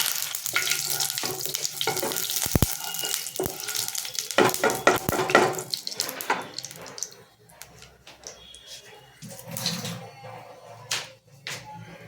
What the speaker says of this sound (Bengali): খুব অল্প সরষেটা একটু ভালো করে পুড়িয়ে নিতে হবে